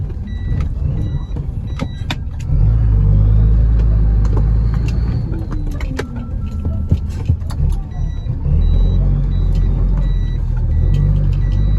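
A remapped car drives along the road, its steady engine and road rumble loud and close throughout, swelling slightly at times, with a few faint high electronic beeps.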